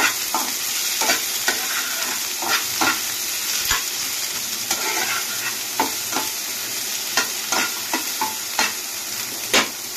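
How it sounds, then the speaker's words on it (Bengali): Chopped capsicum with green chilli lightly frying in a pan, a continuous close sizzle broken by repeated spatula scrapes and stirring taps, no voices. "তারপরে দিয়ে দেবো ক্যাপসিকাম। এগুলোকে হালকা করে ভেজে নেব।"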